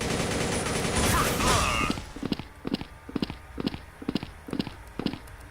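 Loud burst of rapid gunfire in the video game Blood Strike, zombie mode, then a run of evenly spaced, sharp shots in quick rhythm, close.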